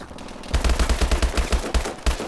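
Rapid automatic gunfire from a Search and Destroy match in a first-person shooter game, a dense rattling burst of evenly spaced shots that runs loud for about two seconds.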